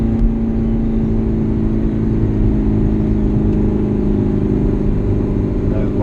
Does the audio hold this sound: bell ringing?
no